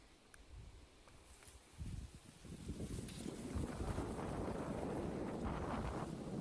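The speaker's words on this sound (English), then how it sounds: "That's not like some gentle wind." Strong wind gusts across a huge open field outside a manor in New York. It starts as a low rumble and builds to a heavy, steady roar of wind buffeting the microphone.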